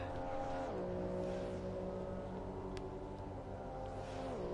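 A racing video game car sweeps through Parabolica at Monza, its engine a steady whining drone that drops in pitch through the corner, with no talk over it.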